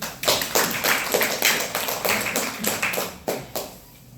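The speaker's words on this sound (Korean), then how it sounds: "박수." Audience clapping at a student team presentation on gas welding equipment: a dense, steady round of hand claps from a small group, fairly near, running throughout and thinning out toward the end, with no talking over it.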